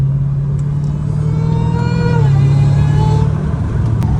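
A Dodge Challenger Hellcat Redeye exhaust rumbles steadily at idle, low and throaty, with a slight rise in pitch partway through as the engine revs gently.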